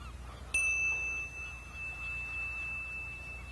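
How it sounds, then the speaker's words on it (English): A single bell is struck once, giving a clear bright ding that rings on as a long, slowly fading tone in a quiet room. "you don't need to see the bell to hear it"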